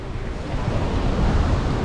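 Surf washing onto a fine-sand island beach under a wide open sea, a steady broadband rush of breaking waves with some wind buffeting the microphone, no voices.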